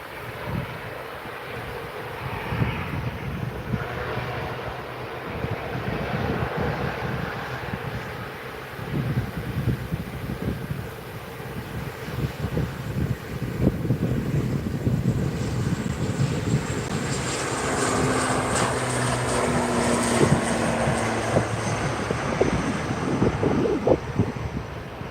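An Aer Lingus ATR turboprop taxis at Manchester Airport, a steady low engine rumble and propeller drone building louder toward the end, mixed with gusty wind buffeting the microphone outdoors.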